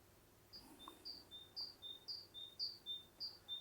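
A small bird outdoors repeating a quick two-note chirp in a steady rhythm, faint and somewhat distant, over a quiet background hum.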